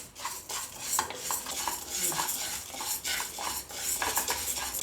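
Moong dal being dry-roasted and stirred in a pan for sweet pongal, with steady scraping, stirring and clinking of a spoon against metal repeating throughout, fairly close.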